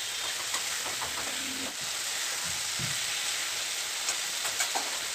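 Bay leaves and spices sizzle in hot oil in a pan for a potato egg curry, a steady close frying hiss broken by soft scrapes and clinks of stirring.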